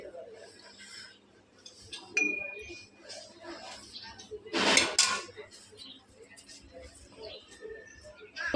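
Cooked pasta served onto a plate with metal cutlery scraping and clinking against dishes, close and intermittent, with one louder clatter midway and someone talking throughout.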